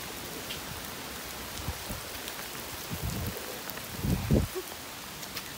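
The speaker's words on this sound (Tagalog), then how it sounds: "Basang basa sa ulan." Rain falls steadily during a walk at Ngau Wu Reservoir in Hong Kong, a soft, constant hiss with a few heavier patters and splashes close by, fairly quiet overall.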